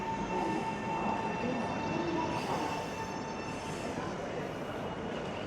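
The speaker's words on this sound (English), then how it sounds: "this is my train right now" A train in Japan heard from inside as it runs, with a steady rumble and rattle, a faint wheel squeal and a continuous hum that carries on evenly throughout.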